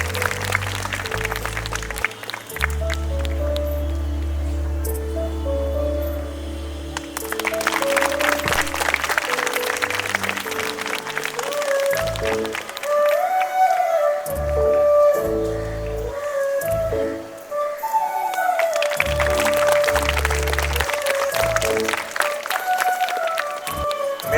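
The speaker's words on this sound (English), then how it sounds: "May we have a round of applause for our guests." Audience applause at a school annual day function honoring guests, loud dense clapping in long swells that surge, dip briefly and return, with music tones and bass beats running beneath.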